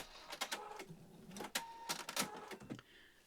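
A domestic sewing machine running in reverse, backstitching fabric in a few short bursts, close up and fairly quiet, with brief whirring pulses and small gaps between them.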